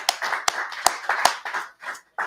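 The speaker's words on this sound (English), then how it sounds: "Clap it up for the class again, please." A class claps in a group, giving a few sharp synchronized claps in a steady rhythm followed by looser bursts of clapping, close and fairly quiet, with no talk over it.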